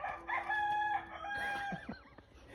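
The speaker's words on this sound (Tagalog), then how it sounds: "Cock-a-doodle-doo! Cock-a-doodle-doo!" Rooster crowing in a wild Ireland park setting, a single drawn-out cock-a-doodle-doo call rising and falling, fairly loud and close, alone without talk.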